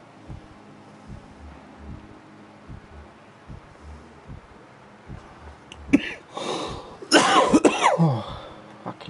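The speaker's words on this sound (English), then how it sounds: "Fucking cough." A person in the video game Vampyr coughs harshly a few times in quick succession near the end, after a quiet stretch of low ambient sound.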